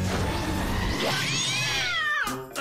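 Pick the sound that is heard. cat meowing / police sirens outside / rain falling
cat meowing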